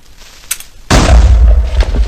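An explosion in Minecraft tearing into a floor of half slabs: after a quiet stretch with one small tick, a sudden loud boom bursts in and rumbles on as a sustained roar.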